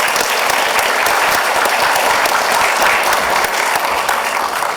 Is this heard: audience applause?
yes